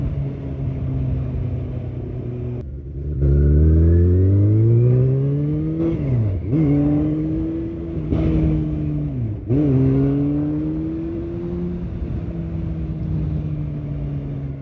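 A 2015 Kawasaki Ninja ZX-6R 636 sport bike on a test ride revs hard and close, pitch sweeping up through repeated gear changes with brief dips between shifts, then settling into a steady high whine.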